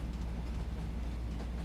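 A passenger train heading to Yosemite rolls along its tracks, producing a constant low, heavy rumble with faint rhythmic wheel clatter, steady and close, without speech.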